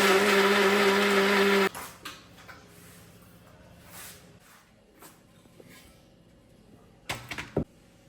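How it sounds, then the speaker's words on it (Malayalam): A mixer grinder whirs loudly and close while blending wheat puttu flour, then stops abruptly, leaving quiet kitchen clatter and handling sounds with a couple of knocks near the end. "ഞാനത് മിക്സിയിലൊന്ന് അടിച്ചെടുക്കാമെന്ന് വിചാരിച്ചിട്ടാണ്"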